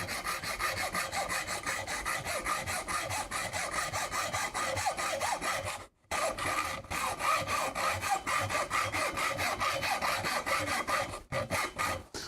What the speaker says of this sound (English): Sometimes the hacksaw is just the easiest option